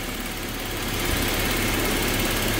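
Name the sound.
car engine idling running on cooking oil instead of engine oil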